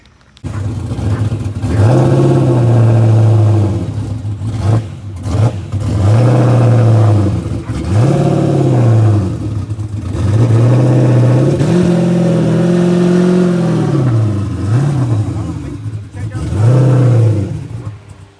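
A car engine revs in repeated rising and falling surges as the car is driven up onto ramps with a floor jack supporting it. The engine is loud and close, with brief dips between pulls and speech in the background.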